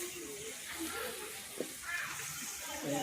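Mixed vegetables fry in a kadhai with a steady, close sizzle, broken by a brief clack of stirring midway and a faint murmur of voices in the background.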